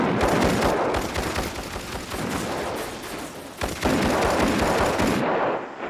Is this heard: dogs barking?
no